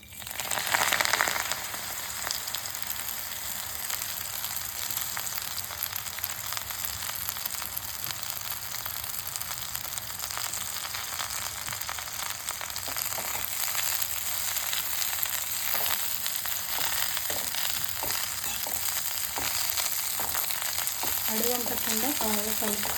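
Gongura (sorrel) leaves fry in oil for a gongura pickle, giving a steady, close sizzle throughout with occasional scraping as they are stirred, and no talking.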